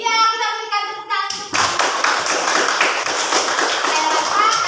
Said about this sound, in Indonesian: Iya, kita berikan tepuk tangan.